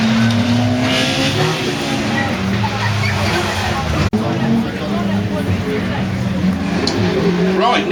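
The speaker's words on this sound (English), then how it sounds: "then on number 93 is a Ford Escort Mark II" A Ford Escort Mark II rally car drives a stage at the Brean Stages Rally, its engine rising and falling as it revs through gears, loud and close. A commentator talks over it throughout.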